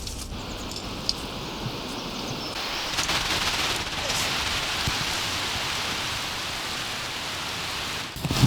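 Steady rain falls in the misty mountains during a hike, a dense, constant hiss of drops that stays loud and even throughout, with no voices.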